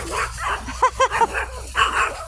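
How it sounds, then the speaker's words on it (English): Several small dogs bark and yip at a passing dog during a spring garden walk, a quick cluster of close, loud barks with whiny yelps around them. "So you're going to hear barking, but that's okay."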